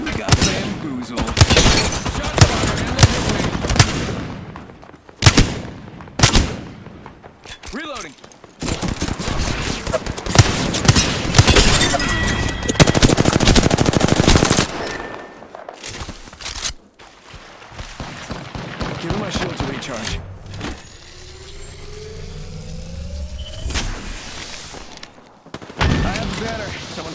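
Gunfire in the video game Apex Legends, with sharp single shots, rapid bursts and booming impacts arriving in uneven clusters, loud and close, and voices talking between the volleys.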